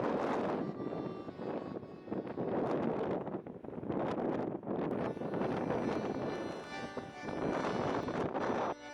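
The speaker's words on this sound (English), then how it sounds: "The wind at the campground was still high" Strong gusty wind roars across a campground dock at Pehoé in Patagonia, buffeting the microphone in continuous loud waves with no letup.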